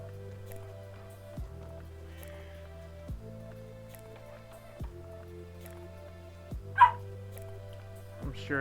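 A puppy barks in a game-world scene, several short yips spaced a second or two apart, sounding fairly faint over a steady low musical drone and occasional soft taps.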